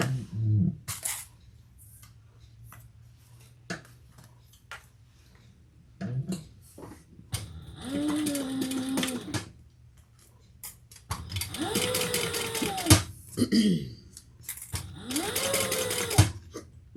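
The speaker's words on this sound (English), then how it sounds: "we're going to add the lining piece, add a full seam allowance, and then we're going to turn and top stitch" A sewing machine top-stitching a lining piece runs in several bursts of rapid mechanical whirring and ticking, separated by quiet pauses and light handling clicks. The machine is close and there are no voices.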